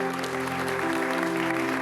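Congregation clapping together at a church service, a steady dense patter of applause holding for a short stretch, with a faint sustained musical tone underneath.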